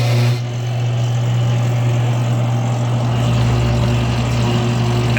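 Zambelli EMME destemmer crusher with its infeed auger engaged, a loud steady motor hum and mechanical drone, continuous with no talking.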